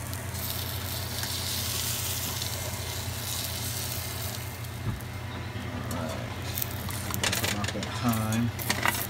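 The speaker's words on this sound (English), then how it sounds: "Last but not least, a little beef in here." Beef sizzling and frying in a pan, a steady broadband hiss running throughout at close range with faint stirring and clatter toward the end.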